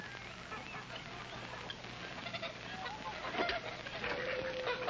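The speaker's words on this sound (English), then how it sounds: "Best Rhode Island roosters, half my flock." A flock of Rhode Island roosters and other farm fowl cluck and call softly at a distance over a faint, steady background hum.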